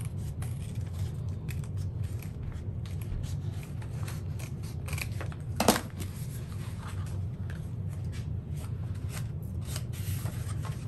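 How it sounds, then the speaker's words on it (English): Scissors snip steadily as they trim the top curve of a fabric piece, giving close, crisp cuts with one louder snip near the middle. No one speaks. "And then take my scissors"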